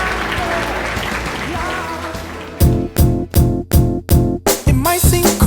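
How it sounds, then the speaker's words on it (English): Guests applaud at a wedding reception, a crowd clapping with chatter that gives way to loud rhythmic music beats with strong pulses in the second half. "let's give them a round of applause as well."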